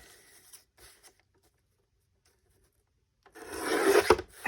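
A page from a 1950s English grammar book is trimmed, with faint scratchy rustles at first, a quiet gap, then a loud, close rasping cut near the end.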